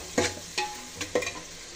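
Onions frying in hot oil for chicken dum biryani while a spoon stirs them, with three or four short scraping strokes over a soft, quiet sizzle.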